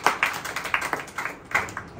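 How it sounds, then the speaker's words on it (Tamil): Church congregation clapping hands together in praise, a quick irregular run of sharp claps from a crowd, fairly close and without talk. "கைத்தட்டி ஆண்டவரை மகிமைப்படுத்துங்க"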